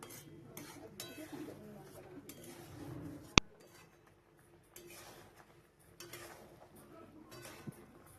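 Boiled mango pickle with chopped ginger is stirred in a pan, a spoon scraping and clinking against metal in uneven bursts, with one sharp clank and quiet stretches between.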